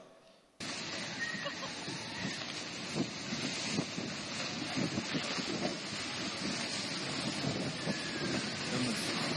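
Typhoon wind in Hong Kong or Macau, played back from a short phone recording: a loud, roaring rush of air cuts in abruptly and then keeps blowing with gusty surges.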